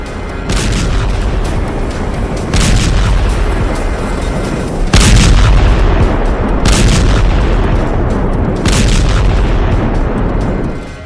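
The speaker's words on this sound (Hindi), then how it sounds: "धमाका हुआ, धरती कांपी और आसमान में धूल का गुब्बार उठा।" Deep, rumbling explosion booms from a test blast at Pokhran, India, roll through the whole stretch, with heavy blasts hitting again and again over a constant loud roar, no voices present.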